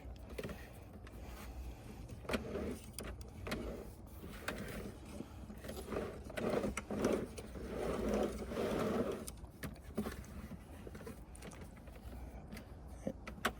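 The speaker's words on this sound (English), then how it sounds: "So I'm just gonna keep winding it like this." A garden hose winds onto a Suncast hose reel with a moving hose guide, producing a faint, steady run of mechanical clicking and ratcheting with light rubbing, close by and without talk.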